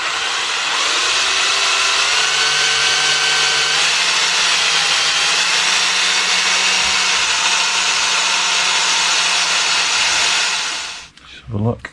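A power drill with a sharp bit drills out a broken exhaust stud, whining loudly and steadily at nearly constant pitch for around eleven seconds, then winding down with a brief clatter at the end.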